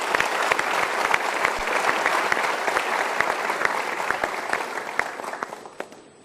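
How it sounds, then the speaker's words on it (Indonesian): An audience claps together in sustained, dense applause at an event, loud and even for several seconds before tapering off into a few scattered claps. "Mari kita berikan tepuk tangan untuk Pak Kapolres kita."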